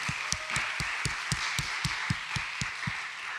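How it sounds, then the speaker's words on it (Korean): A church youth-worship congregation claps in a slow, steady rhythm to honour summer ministry volunteers, about a dozen even beats with fainter scattered claps between them. "우리 수고하신 우리 지체들을 위해서 다 같이 박수로 격려합시다"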